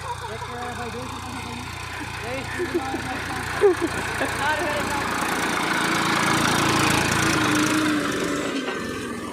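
A tractor engine runs in a field during groundnut harvesting, a steady close drone that holds throughout, with voices talking over it.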